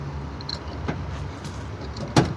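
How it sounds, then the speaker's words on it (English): The tailgate of a 2025 Nissan Frontier PRO-4X swings down with a few faint rattles, then ends in a single sharp metallic clunk as it stops, heard nearby against a quiet background. "Not such a soft opening tailgate by any means, but it does come down easily"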